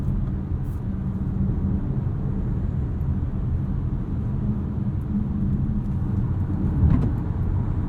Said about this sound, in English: A little bit of tire noise, but not too bad considering we're on 20-inch wheels.